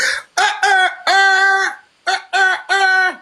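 A man imitates a rooster crowing, voicing several loud, close cock-a-doodle-doo calls in bursts, with short gaps between the first cluster and a second set of crows.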